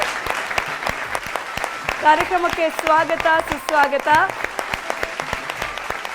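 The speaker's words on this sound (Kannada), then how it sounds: "ಬನ್ನಿ, ಜೋರಾದ ಚಪ್ಪಾಳೆ." An audience at a Kannada television music show stage event claps continuously in a crisp, steady patter, while a voice greets the crowd over the applause in the middle.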